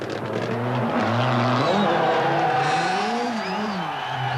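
A Peugeot rally car on the 1985 Monte Carlo Rally roars past, its engine note rising and falling through gear changes, loud and continuous with a commentator talking over it.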